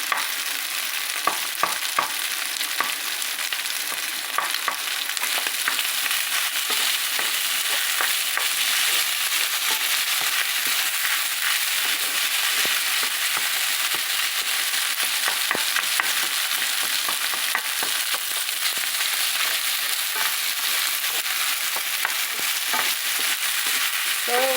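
Lobster fried rice with garlic scapes sizzling in a hot pan while being stirred, a dense continuous crackle with frequent scraping and tossing clicks, close up and without voices.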